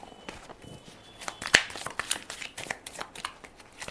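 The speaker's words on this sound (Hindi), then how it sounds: "Last shuffle." A deck of tarot cards being shuffled close up, a quick series of crisp riffling flicks and soft slaps with a sharper snap near the middle, quiet overall.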